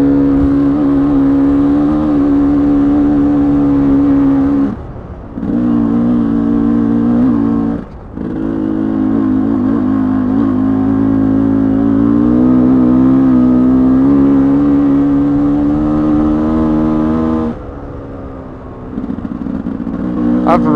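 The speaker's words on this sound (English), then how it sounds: "Bike seems to be running good." A motorcycle engine runs steadily while riding, a loud, close, continuous hum with brief dips in power around a few seconds in and near the end as the throttle eases off and picks up again.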